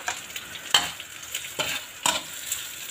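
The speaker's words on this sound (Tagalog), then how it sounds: "Pag uminit na mantika, ilagay natin yung ating dried shrimp." Dried shrimp frying in hot oil in a pan, with a steady sizzle broken by about four sharp stirring scrapes and bursts, close and fairly loud.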